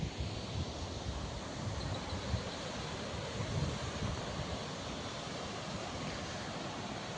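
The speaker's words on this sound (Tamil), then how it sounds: "இது வந்து அஜந்தா கோயிலினுடைய மேற்கு முனையில் இருக்கக்கூடிய அருவி" A waterfall at the western end of the Ajanta temple caves, its water rushing through the valley as a steady, loud, unbroken roar with no voices over it.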